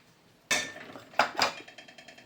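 A metal plate set down and handled on a counter, a sharp clank followed by a few quick clinks and a soft rattling settle, close and alone.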